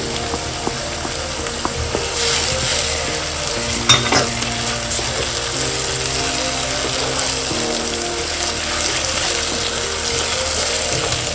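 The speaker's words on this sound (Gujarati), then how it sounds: "હવે આપણે ટમેટું નાખીશું." Chopped tomato goes into browned onions frying in a pan for a fish curry, with a steady close sizzle and stirring scrapes running continuously and no talk.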